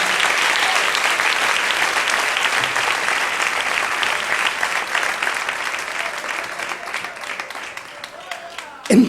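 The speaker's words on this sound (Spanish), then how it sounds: "Si es para el Señor ese aplauso, dáselo en esta mañana" Sustained congregational applause fills a church during a Sunday morning service, a dense wash of many hands clapping that stays steady and loud before thinning near the end.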